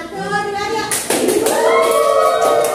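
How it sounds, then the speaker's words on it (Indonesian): Middle school students clap together in a classroom, a burst of clapping that starts partway through and carries on beneath a teacher's voice and ongoing talk. "Kita kasih tepuk yang meriah"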